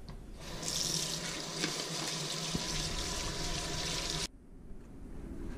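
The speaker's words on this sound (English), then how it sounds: "wash your hands with warm soapy water." Warm water runs steadily from a tap into a sink as hands are washed, a close, constant rushing splash that stops abruptly near the end, leaving a quiet room.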